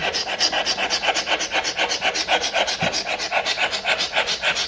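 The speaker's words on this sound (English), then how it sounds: "See how I took that off, guys, with the scraper?" A hand scraper works steadily across a hardwood floor, stripping off old finish in a fast, even rhythm of rasping strokes, loud and close, with no talking.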